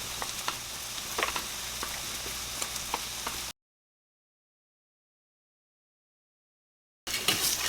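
Seared king oyster mushrooms sizzle steadily in a hot pan, a close, even hiss with small pops that cuts off abruptly and returns briefly at the end.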